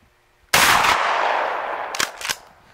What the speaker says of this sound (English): here goes the Winchester 3-inch magnum 1-ounce slug